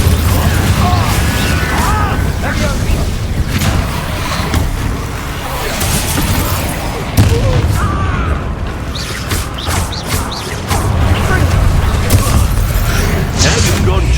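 Confringo fire spell explosions in a Hogwarts Legacy duel land as repeated booming blasts and crashes in a dense, loud battle soundscape, with a voice talking intermittently over the combat.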